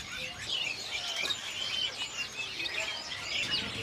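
Caged male magpie robins chirp and sing at a bird market, many overlapping bright calls and whistles at moderate distance, forming a continuous busy chorus.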